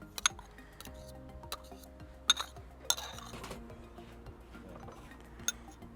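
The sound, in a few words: knife and spoon scraping butter into a dish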